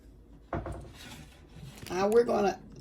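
Spoon or spatula spreading sweet potato casserole mixture in a baking dish, a sharp scrape followed by softer rubbing and a louder, longer scraping stroke near the end, close and otherwise quiet.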